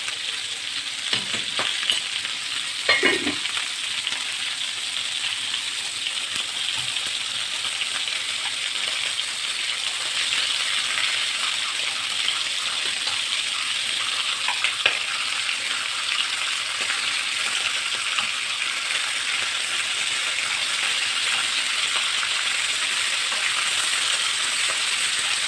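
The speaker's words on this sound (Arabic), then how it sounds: "دي كله اللحمه على البوتاجاز" Meat fries in a pot on a gas stove with a dense, steady sizzle and crackle that carries on for the whole stretch, plus a couple of brief clinks early on.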